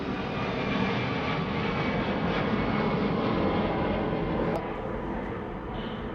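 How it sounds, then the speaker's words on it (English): An airplane passes overhead near an airport, a steady, loud, broad engine roar filling the whole stretch, easing slightly toward the end. "I live really close to the airport. Every second we have a plane going by."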